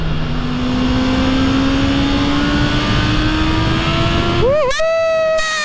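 A Honda CB650R motorcycle engine climbs steadily while riding at speed, a loud rising whine over wind rush that jumps sharply at a gear change near the end, with no talk.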